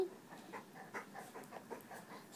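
Close, steady panting from a dog worked up while playing with a pillow indoors, quick rhythmic breaths repeating for the whole stretch with no voices over them.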